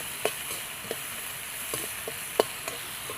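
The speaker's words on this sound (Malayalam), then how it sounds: "കുറച്ച് കപ്പൽമുളക്, കുറച്ച് തേങ്ങ, ഇത് എല്ലാം കൂടി നന്നായിട്ടൊന്ന് വഴറ്റിയെടുക്കണം കേട്ടോ" Chili and grated coconut sauté in a pan, a soft constant sizzle broken by scattered scraping stirs and an occasional sharp tick of the utensil, with nobody speaking.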